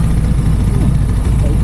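A Kawasaki Ninja 650 motorcycle engine heard onboard, a loud low steady rumble with wind noise throughout.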